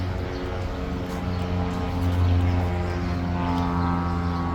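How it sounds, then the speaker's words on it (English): An airplane passing overhead near 89th Street and Riverside Drive in New York City, a loud, steady engine roar that swells slightly midway and holds throughout. "Plane."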